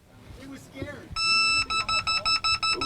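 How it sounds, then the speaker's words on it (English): A beep baseball ball at the 2022 Beep Baseball World Series gives off a loud, steady run of rapid electronic beeps. The beeping starts after a second of background crowd talk and pulses evenly to the end. "Still having issues with balls here as they start to beep and then die before we can even get them into play."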